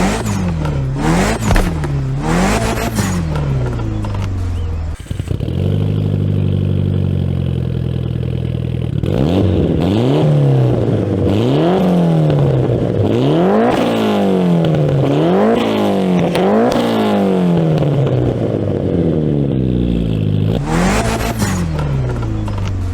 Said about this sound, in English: we're going to do a few little back-to-back sound tests, revving up the engine from the front, back